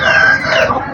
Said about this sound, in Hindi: ये देखो बड़े वाला मुर्गा ये।